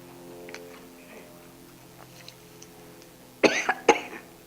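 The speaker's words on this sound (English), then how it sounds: "Somebody's coughing." Two or three sharp coughs break out near the end, loud and close, after several seconds of quiet room tone with faint background sounds.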